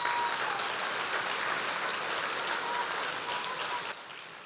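Dense, continuous applause from a church congregation fills the room during a worship service, a loud rain-like wash of many hands that drops off abruptly just before the end.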